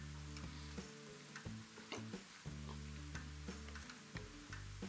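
Fried okra and onion being stirred into a gravy in a pan, with a soft steady sizzle and repeated utensil scrapes and taps against the pan at an irregular rhythm, close and moderately loud with no talking.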